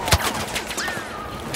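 Rapid gunfire bursts from the video game Star Wars Battlefront, with a sharp loud shot near the start followed by continuous crackling fire and whooshing sweeps, fairly close and busy.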